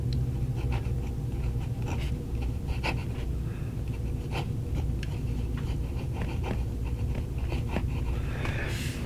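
A Hongdian 517D fountain pen's nib writes on paper with noticeable feedback, a faint scratchy rasp in short strokes over a steady low background hum.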